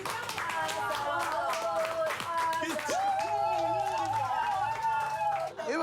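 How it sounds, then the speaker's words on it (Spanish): A group clapping for the grill cook at an outdoor gathering, rapid clustered handclaps mixed with lively voices, laughter and overlapping chatter close by. "Un aplauso para el asador."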